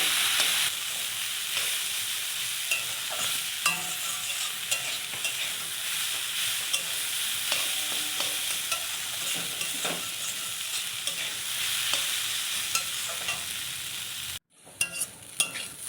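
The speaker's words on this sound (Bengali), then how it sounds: "দেখো, সুন্দর করে ভেজে নিয়েছি।" Yukti flowers and chillies fry in a pan with a steady, close sizzle and occasional clicks of stirring. The sizzle runs continuously, cuts out for a moment near the end, then resumes.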